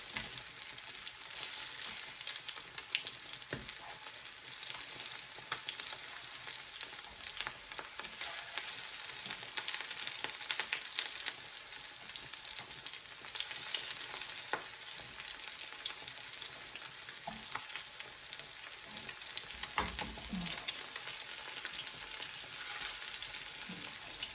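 Liver sizzles steadily in a frying pan, cooked on both sides, with a continuous bright crackle and occasional stirring scrapes, close and even throughout with no talking.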